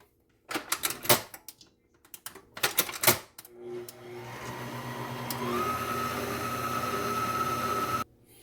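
Electric hand mixer beating powdered sugar into frosting for sweet potato cinnamon rolls, starting after a few loud clatters and knocks, then whirring steadily for several seconds and rising in pitch before it cuts off.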